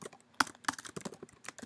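Quick bursts of clicky keystrokes on a computer keyboard as text is typed, close and fairly quiet, with irregular rhythm and no speech.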